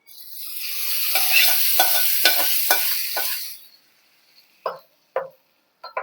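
Hot spiced tempering poured into capsicum chutney, a loud burst of sizzling and frying that lasts a few seconds, crackling then fading to silence, followed by a few short knocks of a spoon against the pan.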